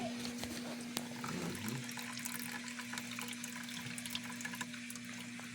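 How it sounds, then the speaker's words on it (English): Water trickles faintly into a refrigerator ice maker (W10873791) during a fill cycle, a soft steady hiss and gurgle with a constant low hum and occasional small clicks, heard close in a quiet kitchen. "You hear the water coming in."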